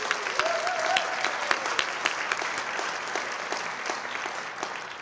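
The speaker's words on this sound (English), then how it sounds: "So they, public safety, deserve another round of applause," Steady round of audience clapping at a city state-of-the-city and employee recognition ceremony, a dense even patter with a few sharper claps standing out, moderately distant and unbroken for several seconds.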